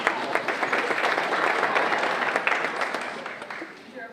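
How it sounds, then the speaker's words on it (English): A congregation's audience claps for awardees at an annual meeting and awards Kabbalat Shabbat service: dense, sustained applause from many hands, fairly close, tapering slightly toward the end, with some voices mixed in. "You're applauding the awardees, not me."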